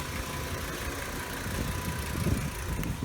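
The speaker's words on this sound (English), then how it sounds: "Nice engine." A 2010 Volkswagen Jetta SportWagen 2.5 engine idles steadily at close range, a low even rumble with a slight rise near the end and no talk.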